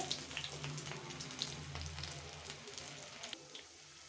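Breadcrumb-coated potatoes fry in oil over low heat, giving a soft, steady sizzle and crackle throughout, fairly faint and alone.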